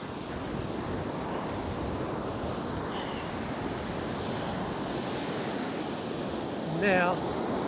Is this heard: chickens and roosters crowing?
no